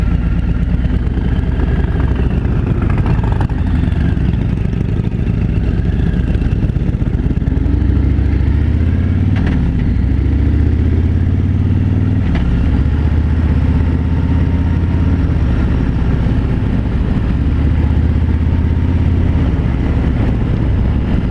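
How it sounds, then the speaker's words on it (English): A 2017 Harley-Davidson Road King Special with a Milwaukee 8 engine rides along with a loud, continuous low throbbing rumble under heavy wind roar, steady throughout with only slight swells in throttle. "I do like this Milwaukee 8 engine."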